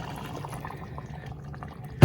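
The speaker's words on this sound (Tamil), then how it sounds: "தேங்காய் பால் வந்து நான் வந்து இந்த கெட்டியான பாலுக்குள்ள வந்து தண்ணி கலந்து கொஞ்சம் கூட விடுறேன்" Diluted coconut milk pours into a simmering fish curry with a steady, soft liquid splash and trickle, ending in a sudden louder thump.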